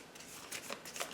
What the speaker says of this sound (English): we're gonna shuffle up their discard pile.